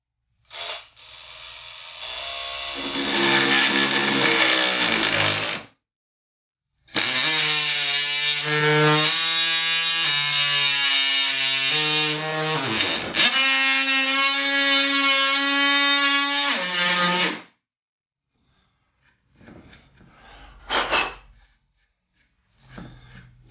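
Hand saw cutting through the old wood of a century-old baby crib. Rhythmic, rasping strokes come in two long bursts with a pause between them, close and loud, then a few brief scrapes at the end.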